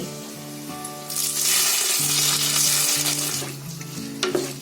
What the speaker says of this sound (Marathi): आता 2 चमचे मी तेल घेतलंय, ते गरम करून त्याच्यामध्ये ओतते